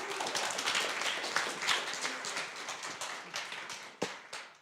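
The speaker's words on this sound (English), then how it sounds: "Big applause." A crowd claps together in a dense burst of applause that gradually thins out, with a few last claps near the end.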